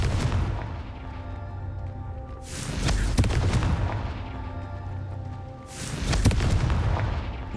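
A Confringo spell in a video game sets off two heavy booming blasts a few seconds apart, each with a sharp crack followed by a long rumbling roar that fades out.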